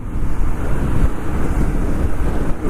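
Loud, constant wind roars and buffets the microphone while riding a motorbike, a steady low rushing with no pauses, as if moving at speed.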